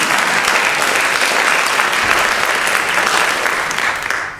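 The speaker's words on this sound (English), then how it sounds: "So we'll give her another round of applause." A lecture audience claps in a short, full round of applause at a university inaugural lecture, steady and loud before tapering off at the end.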